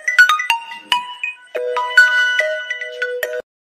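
A mobile phone plays a bright melodic ringtone, a quick run of chiming notes followed by a longer tune that stops abruptly, loud and close with no voices.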